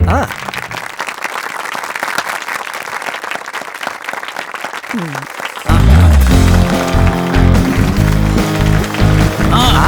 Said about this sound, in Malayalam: കൈയടിച്ചേ, എല്ലാവരും കൈയടിക്ക്.